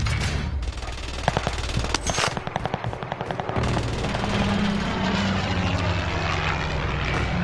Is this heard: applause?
no